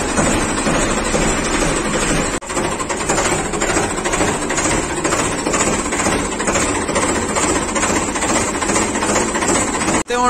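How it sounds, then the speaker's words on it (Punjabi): A John Deere tractor engine running after a self-starter crank, a loud close diesel clatter with rapid knocking pulses that holds steady throughout, broken by a brief dip, with no voices. "ਹੁਣ ਆਪਾਂ ਸੈਲਫ ਮਾਰਦੇ ਹਾਂ"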